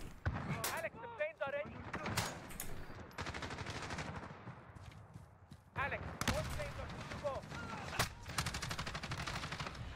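Rapid gunfire in Call of Duty Modern Warfare's Realism campaign: bursts of automatic fire and single shots crackle close and loud through most of the stretch, with voices talking in between.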